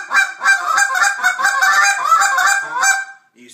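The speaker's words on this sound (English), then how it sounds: "that check goose is going to sound something like this" A goose call blown in a contest-style routine gives a run of short, clipped check-goose honks in quick rhythm, loud and close, ending abruptly.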